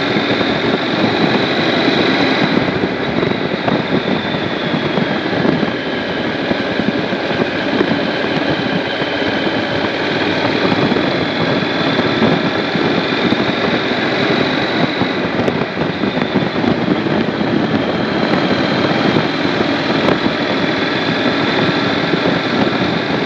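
A 2015 Honda NC700X motorcycle engine drones steadily while riding at around 2,500 rpm, mixed with constant wind rush over the microphone for the whole stretch, with no talk.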